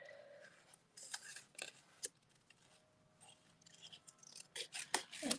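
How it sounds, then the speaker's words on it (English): Scissors fussy cutting around a stamped paper image, a series of small crisp snips and paper rustles, close and soft, coming in clusters with short pauses. "then I'm going to fussy cut it"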